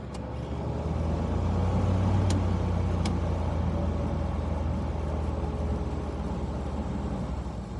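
A 4,000 BTU mid-1950s window air conditioner charged with R12 runs steadily, its compressor and condenser fan giving a loud, continuous low hum and rumble with no breaks throughout.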